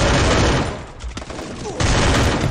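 Gunfire in a competitive multiplayer shooter rattles in loud, dense bursts, briefly easing before another volley erupts close by.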